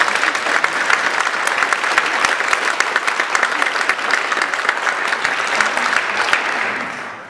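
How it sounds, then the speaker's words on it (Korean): An audience at a gathering applauds a pastor with sustained, dense clapping that stays loud and even for several seconds before tapering off at the end. "다시 한번 경례의 박수 부탁드리겠습니다"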